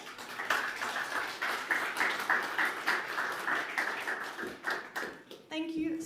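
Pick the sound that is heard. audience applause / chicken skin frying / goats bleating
audience applause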